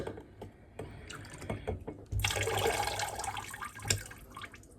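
A small amount of water is poured into a sourdough starter of flour and water in a home kitchen, giving a brief close trickle and splash among faint handling clicks and clatter.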